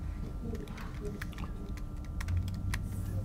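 Fingers tap out a title on a computer keyboard, a quick, uneven run of light clicks over a faint steady hum, close by and fairly soft.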